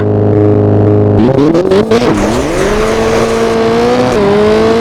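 A rally car engine in the video game Richard Burns Rally idles, then revs up hard, its pitch sweeping upward and holding a loud, steady drone, with no voices.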